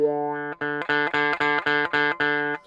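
Bright, nasal guitar tone through a wah pedal held toe down, chopped into a steady run of about eight repeated sustained chords, each cut off sharply, loud and close.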